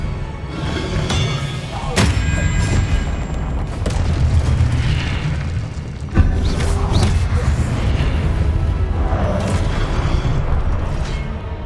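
An Expelliarmus spell cast in Hogwarts Legacy, with heavy booms and thuds amid dense combat noise, including a sharp impact near the middle, loud throughout and mixed with voices.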